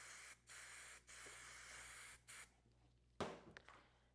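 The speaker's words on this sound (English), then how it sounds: "So I'm just going to hold this in, flip the unit over, and then I'm just going to spray," Freeze spray hisses onto a wig's lace in short bursts, three brief sprays close up, followed by a sharper spritz and small clicks.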